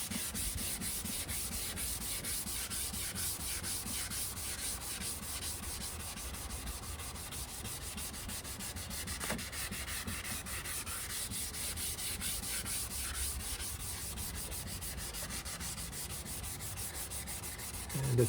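A car headlight lens is wet sanded by hand with 600-grit sandpaper, a steady, close rubbing scrape that repeats in quick strokes for the whole stretch, even in loudness and with no talk.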